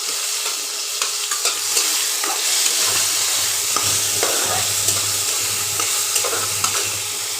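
Fried potatoes go into a pan with chilli paste for a paneer aloo dum, bringing a loud, steady sizzle layered with frequent scraping stirs and light spatula clicks, close and unbroken.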